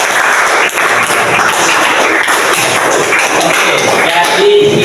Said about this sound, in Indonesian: Oke, tepuk tangan untuk Afif.